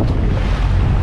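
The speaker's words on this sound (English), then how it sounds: "The wind is coming again from north." Wind at sea aboard a sailing boat, a loud, dense rumbling buffet against the microphone with a wash of water underneath, steady for the whole second.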